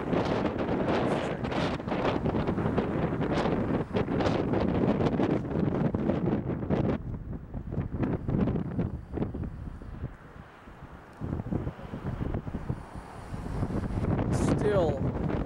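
Strong wind gusting across a desert drywasher mining camp near a dam site in Arizona, a loud, continuous buffeting roar on the microphone that eases midway and then surges back.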